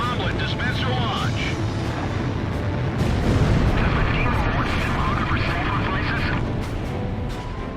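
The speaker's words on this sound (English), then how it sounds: "Bomblet dispenser launch." A bomblet dispenser launches in the Ace Combat Zero flight game, a dense booming blast and crackle layered over a continuous jet roar, loud and sustained throughout.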